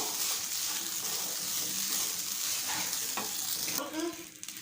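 Close, steady sizzling of spices frying in a pan, with a spoon scraping and stirring through it; the hiss continues throughout with occasional clinks.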